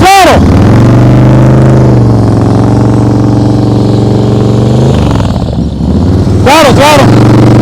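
A motorcycle engine held at low speed during slow-speed riding practice, a loud steady drone that rises and falls as the throttle is worked, with an instructor's voice calling out over it.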